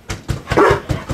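A dog barks in a quick series of about five short, loud, close barks with brief gaps between them, with no talking.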